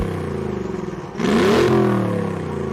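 The Mercedes-AMG twin-turbo V8 of a 6x6 off-roader idles with a lumpy burble, then revs sharply, rising to a loud roaring whir and holding high.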